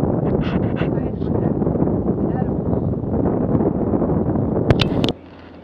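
Strong wind roaring across a microphone on a sailboat near Stavoren, a dense, steady rumbling gust that cuts off abruptly near the end, with a few brief voices faintly underneath.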